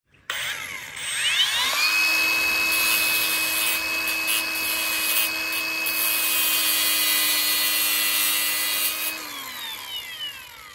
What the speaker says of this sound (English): So I'm getting ready to go get my grinder and cut this damn tweeter up